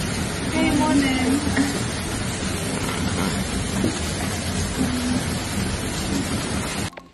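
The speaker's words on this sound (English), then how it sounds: "the rainy days are beautiful in St. Vincent" Rain falls steadily in St. Vincent with a broad hiss and low rumbles like distant thunder, while a voice talks over it near the start.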